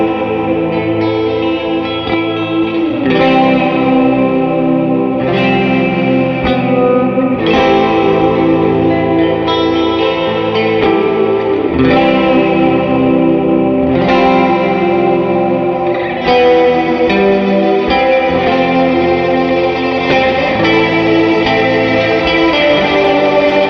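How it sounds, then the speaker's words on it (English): About 17 layered tracks of distorted electric guitar play together, dense and loud with chorus-like shimmer and reverb, sustained chords shifting every few seconds. "maybe I added too many guitars. This is 12... 16, 17 tracks of guitars."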